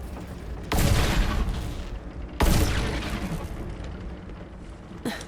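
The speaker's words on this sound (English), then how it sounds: "Those devil riders are celebrating the sheriff's death with damn fireworks." Fireworks going off in the Western shooter Call of Juarez: Bounty of Blood: two loud booming bursts a couple of seconds apart, each followed by a long crackling rumble that fades, then a third sharper pop near the end.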